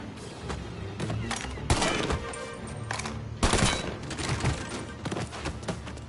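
Gunfire in Mafia Definitive Edition: close, sharp shots and rattling bursts ring out irregularly over a busy game background, with faint voices underneath.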